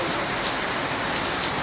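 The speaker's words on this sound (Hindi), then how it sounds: "बारिश अपने पास 2 दिन से चल रही" Steady, dense rain hisses throughout, an even loud wash of drops falling on surfaces with no pauses.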